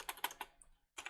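Keys on a computer keyboard clack in a quick burst of four or five sharp, close taps, a brief pause, then another keystroke, with nothing else audible.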